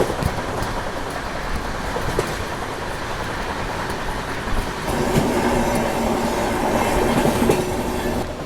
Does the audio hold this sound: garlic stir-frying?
no